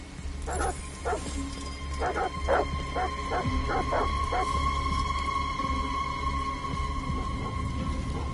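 Dogs in the video game Detroit: Become Human bark in quick bursts of several yaps and whimpers, moderately distant, over a low steady rumble of ambient noise.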